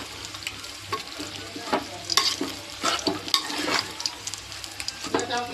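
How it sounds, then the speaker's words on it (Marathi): A spoon stirs curd into fried onions in a pan over a low flame while making paneer biryani. Repeated scraping strokes sound over a soft ongoing sizzle. "बघा दही टाकून मी असं व्यवस्थित असं हलवून घेणार आहे बारीक गॅसवर"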